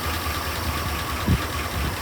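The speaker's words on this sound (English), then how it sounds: "it's running. Idling after 20 years, at least." A 1976 Chevrolet squarebody truck engine, with a small fuel leak, idles after sitting unused for 20 years. It gives a steady, even low rumble with a faint bump near the end and no voices.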